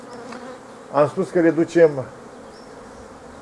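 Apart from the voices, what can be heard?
honeybees buzzing around a beehive frame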